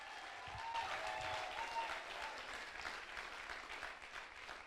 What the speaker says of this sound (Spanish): Vamos, aplauda al Rey. Aplauda, aplauda, alégrese.